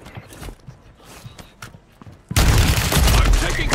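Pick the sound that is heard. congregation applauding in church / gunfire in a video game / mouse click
gunfire in a video game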